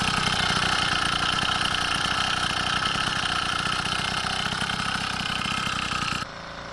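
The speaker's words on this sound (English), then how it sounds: "I use a little bit of pedal power to kickstart the engine as I pop the clutch." A small motorized bicycle engine idles steadily and close up with a buzzy, even putter that holds for about six seconds before dropping away abruptly near the end.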